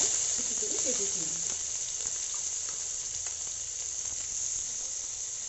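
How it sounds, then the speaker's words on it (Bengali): Two chopped onions fry in hot oil for an egg masala bhurji, giving a steady, loud, close hiss and sizzle that continues throughout with faint crackles. "তেলের মধ্যে আমি পেঁয়াজ কুচি দিয়ে দিচ্ছি।"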